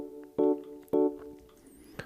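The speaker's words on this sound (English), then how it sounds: "use the Numa Player plugin and use a Rhodes piano" Rhodes electric piano from the Numa Player plugin: two short, warm chord stabs in quick succession followed by a softer decaying note and a faint final tap, quiet and alone.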